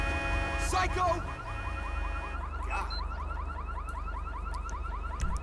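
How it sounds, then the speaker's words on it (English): A car alarm wails in a repeating rising electronic pattern in GTA 5 during a police roadside scene, with a siren and vehicle engine rumbling beneath and brief voices early on. "Got a car alarm going off as well."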